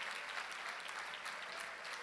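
A church congregation applauds during a morning service, a steady wash of many hands clapping heard faintly and at a distance, with no talk over it.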